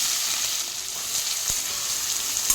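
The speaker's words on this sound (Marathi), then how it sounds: "याला आता 2 मिनिट परतून घेऊ। कांदे छान परतले आहे।" Onions sautéing in hot oil in a kadhai with cumin, mustard seeds and garlic give off a steady, close sizzle and crackle that runs unbroken, with a faint tap from the pan at two moments.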